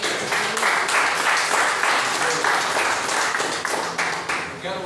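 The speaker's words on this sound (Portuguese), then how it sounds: "nós damos, Senhor, uma salva de palmas neste momento." A church congregation gives a round of applause, a loud and steady wash of many hands clapping with a faintly rhythmic pulse and a few voices mixed in.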